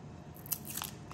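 Sealing wax made from melted crayon and glue stick being peeled off its surface, giving a quiet, close crinkling crackle with a couple of sharper snaps, alone and faint.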